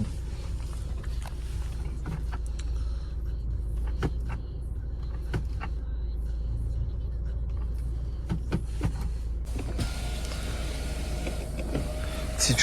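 Power windows on a Volvo car whir as they move, a steady motor hum inside the cabin under someone speaking, ending with a brighter, louder rush.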